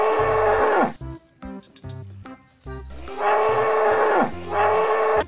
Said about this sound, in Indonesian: Ada 1 ekor kerbau